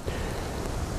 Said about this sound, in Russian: Вот сейчас ветер подул.